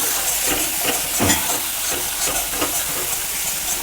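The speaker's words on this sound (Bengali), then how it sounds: "এবার আমি ভালো করে মশলাটা কষাবো" Spice masala with chilli powder and chopped tomato sautéed and stirred in a pan for a prawn malai curry, a continuous sizzle broken by several scraping strokes of the spoon, close and fairly loud, no talking.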